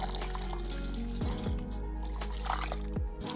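Water runs from a tap into a sink at home, a steady close splashing flow with a few low knocks and clunks, and no talk over it.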